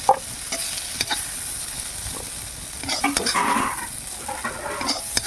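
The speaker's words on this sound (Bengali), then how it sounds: "সেই মাছের তেল দিয়ে আমি আলু আর তরমুজের খোসাগুলি ভেজে নিয়েছি" Potatoes and watermelon rinds fry in leftover fish oil in a pan, a soft sizzle under repeated scraping strokes and sharp clinks of the stirring utensil, close up and with no voices.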